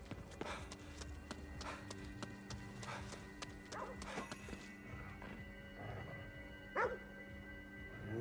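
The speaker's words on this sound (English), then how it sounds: "What's he barking at?" In the video game Ghostwire: Tokyo, a dog barks in short repeated bursts amid clattering, hoof-like footsteps and background game ambience, fairly faint and spread across the scene.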